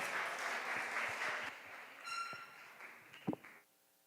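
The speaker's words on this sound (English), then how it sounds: "A big round of applause." Audience applause in a classroom-style presentation setting, a steady burst of clapping that fades out after about three and a half seconds, with a couple of sharper taps near the end.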